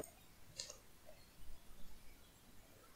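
A single soft computer mouse click on a file update button, faint and close against quiet room noise.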